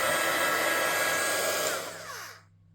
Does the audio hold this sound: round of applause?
no